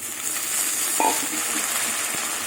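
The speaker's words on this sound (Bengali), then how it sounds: "এবার টমেটো দিয়ে দেবো" Tomatoes go into a pan of onions frying in oil, and a steady close sizzle continues with a brief clink and some stirring scrapes, with no voices.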